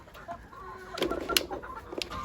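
Several hens cluck softly and intermittently, with a few sharper squawks midway, close by in a quiet farmyard.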